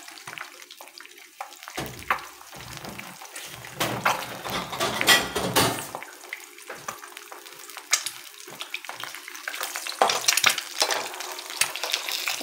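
An egg fries in a pan with a steady crackling sizzle that swells and fades, punctuated by occasional louder pops and clatters of the pan.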